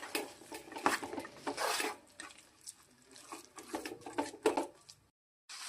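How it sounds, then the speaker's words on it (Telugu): Chana dal being stirred with melted jaggery in a pan over a low flame: a spoon scrapes and clatters against the pan in uneven strokes, soft and close. "గ్యాస్ని లో ఫ్లేమ్లో ఉంచుకొని ఈ పప్పును బాగా కలుపుకోవాలి."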